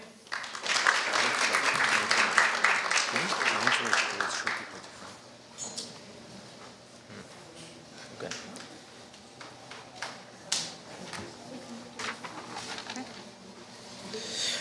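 Loud clapping from an audience at an academy awards ceremony fills the first few seconds, then fades to scattered sparse claps and quiet room noise.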